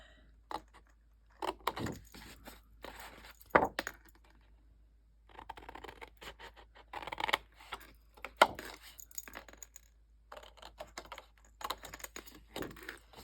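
Scissors snipping through scored card stock while trimming the corners of a handmade deck-of-cards holder, heard as a sparse series of sharp, close clicks and crisp cuts with short pauses between them and no talk.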